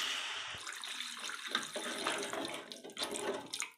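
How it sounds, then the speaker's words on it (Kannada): Water is poured into a pan of spiced masala for cooking egg Maggi noodles, giving a continuous close splashing, gurgling pour with small bubbly bursts and no speech. "ನಮಗೆ ಬೇಕಾಗೋಷ್ಟು ನೀರು ಸೇರಿಸ್ಕೊಳ್ತೀನಿ."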